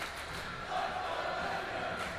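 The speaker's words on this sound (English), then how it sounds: "Again, Vineyard crowd into it." A crowd cheers and shouts at a Martha's Vineyard high school hockey game against Bourne, a dense roar from the rink stands that swells slightly midway and holds steady throughout.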